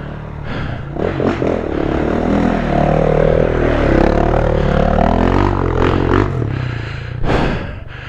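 A KTM trail motorcycle labours through a slippery, deep forest track on a January trail ride. Its engine drones steadily and rises under throttle, with scraping and clattering over the ground, then drops off near the end.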